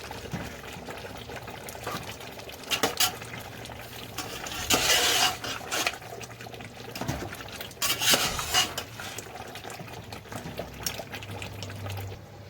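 Mutton biryani masala with meat being stirred in a cooking pot, with a spoon scraping and clinking against the metal in bursts alongside soft wet squelching, steady and close, with no talk.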